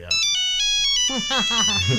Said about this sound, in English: you might have had this ringtone, the Nokia ringtone